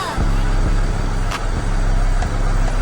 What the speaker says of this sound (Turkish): Uzaktan çalıştırmasını bu açıdan gösterelim. Mercedes logosuna basılı tutuyoruz. Aracımız çalıştı.